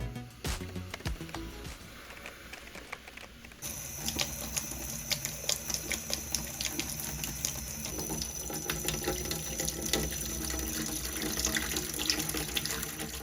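Warm water runs steadily from a tap while a vintage shoe shine box is washed with soap, a continuous splashing hiss with small clatters and knocks of the wooden box under the stream.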